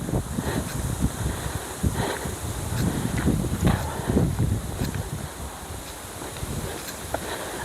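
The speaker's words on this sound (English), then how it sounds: "wind's really getting up now." Strong wind on Cumberledge Hill rushes and buffets steadily, a close broadband roar with rustling gusts swelling and easing over several seconds, no talking.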